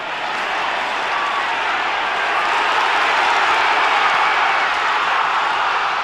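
Football crowd at a 1999/00 St Mirren match, a dense, steady roar of applause and cheering that holds loud and unbroken throughout with no distinct voices.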